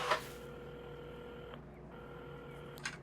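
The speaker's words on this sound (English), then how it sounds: "Carmen had started dialing the phone" A telephone dialed in a coffee shop gives a few steady electronic tones, separated by short gaps, with soft clicks at the start and end, alone and fairly close.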